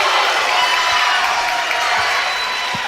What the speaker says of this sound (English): The crowd is going crazy for the 5 count